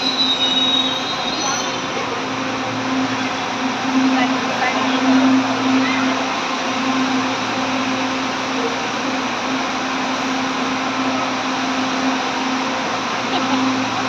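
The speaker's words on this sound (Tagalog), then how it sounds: "ito na, LRT ko na" A light rail train rolls past with steady rumbling and squealing wheels for a long stretch, while people talk faintly in the background, at Gilmore station.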